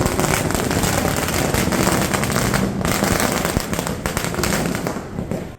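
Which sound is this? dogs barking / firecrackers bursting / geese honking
firecrackers bursting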